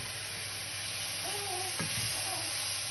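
Onions sauté in a pan for a seafood risotto with a steady close sizzle. A brief stir or scrape comes near the middle and there is no talk.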